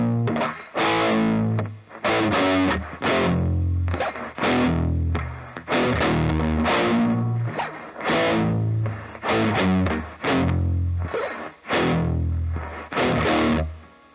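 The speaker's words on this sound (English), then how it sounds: "we're going to go to palm muted, and we're going to play the exact same thing that we just did," Palm-muted, heavily distorted electric guitar plays a riff: loud chugging bursts in a repeating rhythm with short gaps, lasting about fourteen seconds with no talking.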